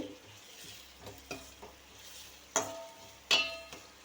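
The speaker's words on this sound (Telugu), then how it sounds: "పచ్చిమిర్చి ముక్కలుగా కట్ చేసుకున్నాం కదా వేసుకోవాలి" Chopped green chillies fry in a pan for an egg fry, a faint low sizzle broken by soft ladle stirs and two sharper clinks against the pan.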